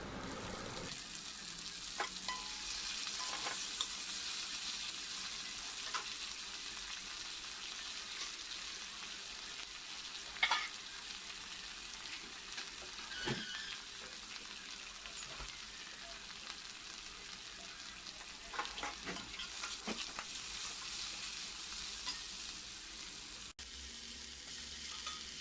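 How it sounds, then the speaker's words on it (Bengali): Chopped tomatoes fry in a pan, giving a soft, continuous sizzle with occasional clicks and scrapes from stirring, and one sharper knock partway through. "এরপর টমেটো কুচিগুলো দিয়ে দেবো, দিয়ে একই সঙ্গে ভেজে নেব।"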